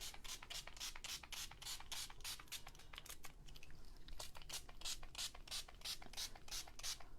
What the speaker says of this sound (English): we're going to spray it with water.